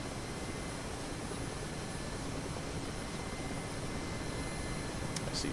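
A Mi-8 helicopter flies in the DCS flight simulator, its rotor and engines giving a dense, steady, unbroken roar from start to finish, with no talk over it.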